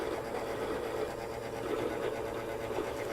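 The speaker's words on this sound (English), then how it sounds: "When you hear the grinder start to change pitch, you know it's done and you can turn it off." Coffee grinder grinding French roast beans, a steady, even whirring buzz that stays close and constant throughout, with no voices.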